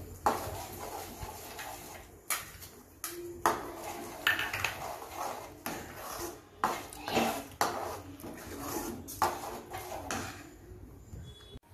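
Cooking pan and utensils clatter repeatedly as boiled cashew purée goes into the pan for kaju curry, a series of close metallic knocks and scrapes over a steady low background, with no talking.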